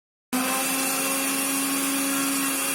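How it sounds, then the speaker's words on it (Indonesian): A kitchen blender starts abruptly and runs at a steady, loud whine, crushing the yolks of salted eggs, with no talking. "kita blender dulu agar kuning telur dari telur asin ini hancur"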